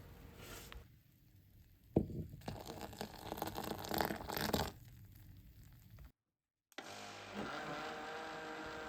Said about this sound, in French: Mixez pendant 5 à 10 secondes.